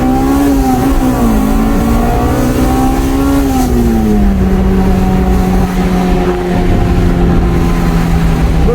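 A Honda Integra Type R accelerating hard on a wet road, heard from inside the cabin, its engine note loud and steady, rising in pitch, then dropping at a gear change and climbing again.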